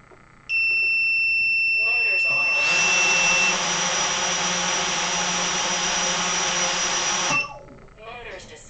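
Four small propeller motors on a 7-inch ArduCopter drone spin up at idle throttle, a loud steady whine with a high tonal hum that runs for about five seconds, then cuts off to quieter background.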